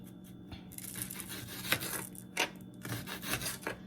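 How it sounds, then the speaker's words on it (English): A knife slices onions for a home-cooked curry chicken wings dish, giving a run of crisp, rasping cuts close by in uneven rhythm, with a few sharper strokes standing out. "Now I'm going to cut up my onions"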